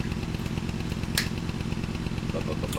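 A small moped-like motorbike engine idles nearby with a fast, steady putter and light clatter, plus one brief sharp click midway.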